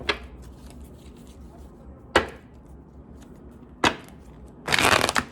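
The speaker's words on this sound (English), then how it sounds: "Why am I shuffling like this?" Tarot cards being shuffled by hand in short bursts, with sharp riffles at the start, middle and near the end before a longer, louder flurry of card noise.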